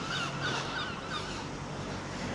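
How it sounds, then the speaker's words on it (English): Seagulls calling at the seaside in Bridlington, several harsh, repeated cries over a steady wash of outdoor noise, moderately distant. "Here's seagulls."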